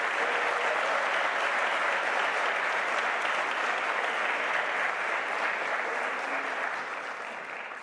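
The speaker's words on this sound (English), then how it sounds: "So let's please give them a huge round of applause." A large audience at a master's graduation ceremony gives sustained, even applause, a dense wash of clapping that holds steady and then slowly fades toward the end.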